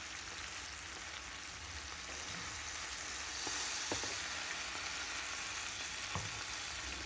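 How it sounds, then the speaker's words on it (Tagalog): Steady crackling sizzle of bacaladilla fish frying in a pan, with a few sharp pops and clinks of utensils over the continuous hiss. "Nag-prito ako ngayon ng isda."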